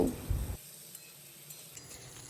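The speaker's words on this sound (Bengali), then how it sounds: "সামান্য লবণ আর হলুদ গুঁড়ো দিয়ে আলুগুলোকে আমি একটু ভেজে নেব" Potatoes sizzle in a wok of hot oil with salt and turmeric. A loud burst of hissing comes first, then it settles into a faint, steady sizzle.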